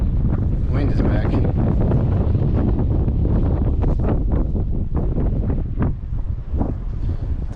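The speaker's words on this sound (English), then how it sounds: "Wind is back." Strong wind gusts blast across the microphone on a fishing boat out on open water, a loud continuous rumble with buffeting bursts throughout, before a big storm.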